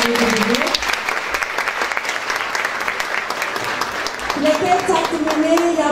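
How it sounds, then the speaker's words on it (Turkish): Sustained applause from a crowd at a hospital's 25th anniversary ceremony fills the room, steady and fairly loud, with a voice speaking over it at the start and end. "Sayın Hasan Aksoy alkışlarla davet ediyoruz."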